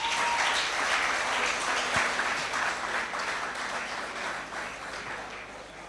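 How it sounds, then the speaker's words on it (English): Sustained audience applause at an awards gala in Northern Uganda, a dense, steady wash of clapping from a large crowd that holds loud throughout and eases slightly toward the end. "please clap for these boys."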